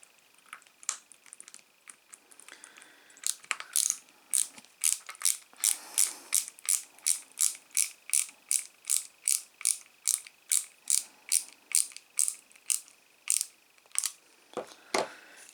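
Rapid ratcheting clicks from a hand screwdriver driving screws while assembling a Citroen Type H model, a steady regular series of close, crisp bursts with no talking.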